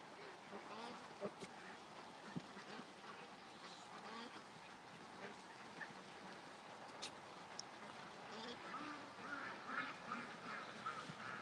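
Ducks that live there year round quack faintly and at a distance outdoors. Scattered calls sit over a soft, constant background murmur.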